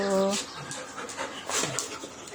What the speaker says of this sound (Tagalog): ayan guys, linalaro na ng aming aso